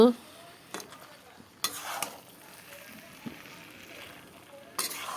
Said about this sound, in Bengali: এখন মাছগুলো দিয়ে দিলাম, দিয়ে ভালো করে আবারও কষিয়ে নেব।